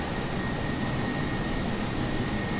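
Steady, loud jet engine roar of a Boeing 747 cruising in a flight simulator game, a continuous broadband whoosh with low rumble and a faint whine, holding constant throughout with no pauses.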